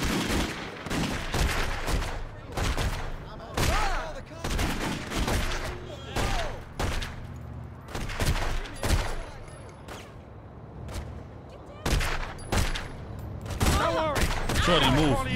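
Rapid gunfire bursts crack repeatedly in a mafia-themed video game, a dense run of shots and short volleys arriving in irregular clusters at moderate loudness.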